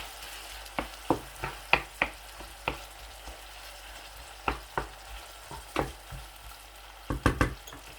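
Tomatoes are added to keema frying on a tawa, producing a steady low sizzle broken by a series of sharp scraping and stirring clacks of a spatula on the metal, close and clear with no talk.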